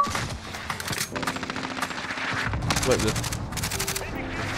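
Heavy gunfire from a Barrett .50 cal sniper rifle in Modern Warfare, loud repeated blasts in a dense, chaotic battle mix while a player talks over the shooting.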